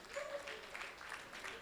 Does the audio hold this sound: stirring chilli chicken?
no